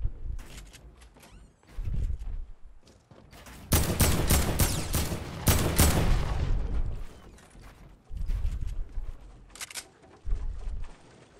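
Bursts of heavy assault rifle fire in Fortnite rattle out in several loud, rapid volleys separated by short pauses, with clattering mechanical sounds between them.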